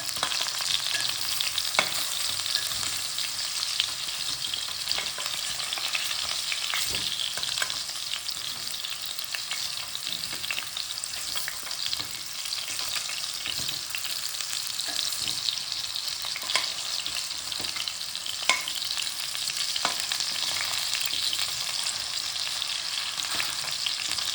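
Potatoes fry in hot mustard oil, a steady dense sizzle running throughout with occasional soft clicks and scrapes as they are turned, close up and with no talking.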